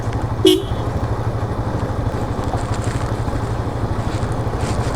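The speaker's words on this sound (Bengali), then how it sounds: "গাড়ি নামতেছে, কোনো কিছুই করতেছে না, গাড়ি এমনি এমনি নামতেছে।" A motorcycle rolls down a hill road in Nilgiri, Bangladesh, on engine braking. A steady low engine drone runs throughout, with one short horn toot near the start.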